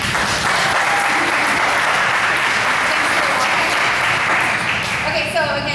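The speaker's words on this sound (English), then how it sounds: "Let's give a round of applause" An audience at a gathering breaks into loud, sustained applause, dense clapping filling the room close by, with a voice speaking briefly as it winds down.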